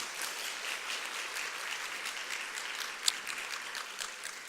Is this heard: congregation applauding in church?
yes